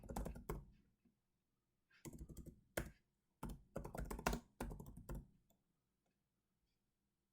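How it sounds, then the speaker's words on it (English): Bursts of rapid clicking on a computer keyboard, close and fairly quiet, typed in several short runs separated by pauses. "Just type this in."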